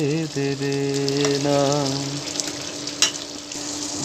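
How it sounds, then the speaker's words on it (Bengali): Fish and eggplant curry cooking in a pan, a steady loud sizzle with stirring scrapes, under a continuous tonal musical sound that fades partway through. "আলগা হাতে আর একবার নাড়া দিয়ে দিলাম"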